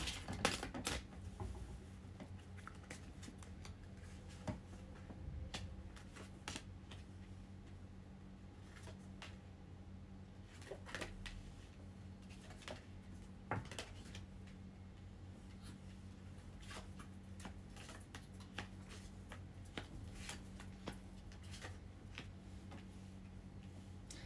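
Large tarot cards are laid out one by one on a small game table, giving soft, scattered ticks and light slaps, faint and close over a quiet steady background hum.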